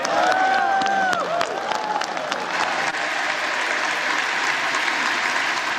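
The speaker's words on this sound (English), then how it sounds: "lots of people applauding, of course" Many people applaud on the floor of the US House of Representatives after a nomination for Speaker, a steady, full round of clapping with faint voices calling out early on.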